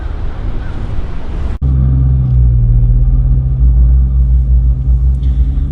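A car engine gives a loud, steady low rumble after a door-like thump, running continuously as the vehicle drives on a sunny day.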